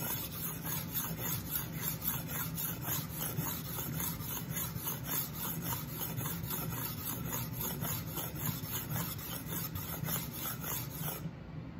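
A knife drawn across an extra fine stone on a Work Sharp guided sharpening system, a steady run of quick, even rasping strokes close by, continuing without pause until a sudden stop at the end.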